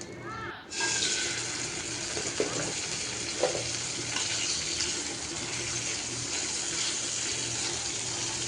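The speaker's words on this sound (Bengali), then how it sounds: "এখন উল্টে পাল্টে মাছটা ভেজে নিব।" Fish sizzles loudly in a frying pan, a sudden burst of hissing spatter as it hits the hot oil, then a continuous dense crackle throughout.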